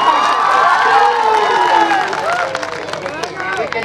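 Audience at a Hindi poetry stage event breaks into cheering and scattered clapping, a busy crowd roar with shouts that swells early and then thins slightly while staying loud throughout.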